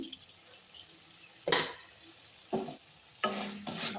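Cooked food gets stirred in a pan on the stove, with three or four scraping, clattering bursts of the spoon over a low background hiss and no speech.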